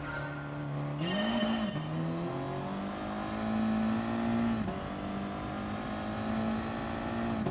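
Jaguar race car in the video game GT Sport, its engine droning at a steady pitch that climbs and dips with gear changes, with a faint tire squeal, heard close and without talk.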